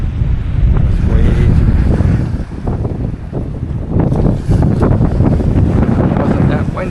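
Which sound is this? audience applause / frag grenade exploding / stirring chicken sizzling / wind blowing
wind blowing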